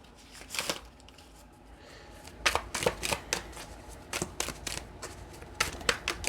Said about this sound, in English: Okay, I will shuffle one more time.